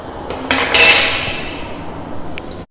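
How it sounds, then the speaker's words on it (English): A sledgehammer strikes a metal mini bike, giving loud, close, ringing metallic clangs: one sharp hit and then a heavier blow whose ring slowly decays, with a faint tap near the end. "I'm gonna sledgehammer this thing"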